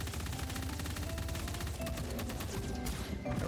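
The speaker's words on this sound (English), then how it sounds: "Let's take the SMG." SMG gunfire in the video game Lithium City, a continuous rapid stream of close, punchy shots with steady rhythm over dense game noise, no talking.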